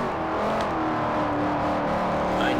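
Chevrolet Corvette C6 ZR1 in Forza Motorsport 4, engine pulling hard uphill on a mountain course, loud continuous revving drone with a slight rising whine near the end.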